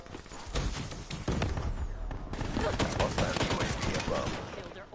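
A slow-firing gun in a first-person shooter fires repeatedly, loud crisp shots in quick bursts layered over other gunfire and game noise, with someone talking.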